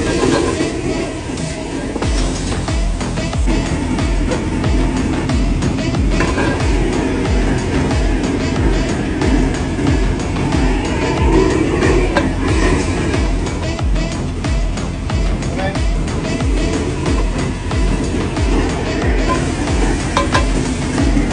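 Yam and spring bamboo shoots stir-fry in a hot wok, a loud, steady roar of sizzling with continuous scraping and tossing running unbroken throughout.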